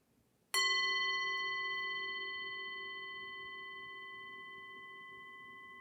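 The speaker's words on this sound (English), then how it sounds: "I'll play the sound of the bell, and you can listen for the sound." A single bell is struck once, ringing out clearly and decaying slowly into a long, pure sustained tone over several seconds.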